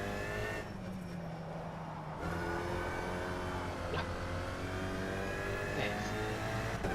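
Race car engine in the rFactor 2 racing game, a steady mid-pitched drone with shifting revs, dipping briefly early then rising again through the clip at a constant, fairly loud level.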